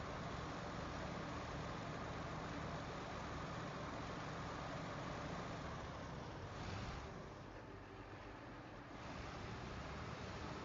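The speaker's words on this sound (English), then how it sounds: "She's kind of a loud truck, though, isn't she?" Loud truck engine in the video game SnowRunner, a steady broadband roar that holds for the whole stretch and dips only slightly midway, with no talk over it.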